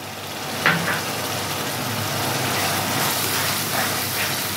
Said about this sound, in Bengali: টমেটো দিয়ে বেশ কিছুক্ষণ আমি কষিয়ে নেব এইভাবে।